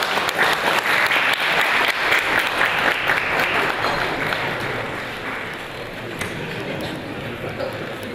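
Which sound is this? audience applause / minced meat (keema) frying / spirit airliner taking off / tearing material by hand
audience applause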